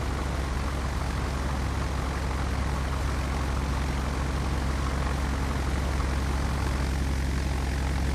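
Douglas DC-3 propeller plane engines in Microsoft Flight Simulator X, a steady loud droning rumble with continuous propeller noise and no variation throughout.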